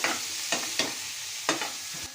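Carrot, onion and tomato sauté in a pan, a soft steady sizzle broken by several quick scraping stirs of a spoon.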